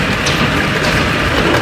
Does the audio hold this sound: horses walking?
no